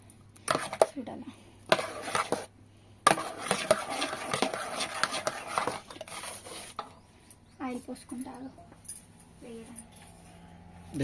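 Dosa batter being stirred in a bowl after salt is added, heard as a run of clinking, scraping and sloshing bursts of varying loudness, with pauses and a few stray kitchen clanks between them.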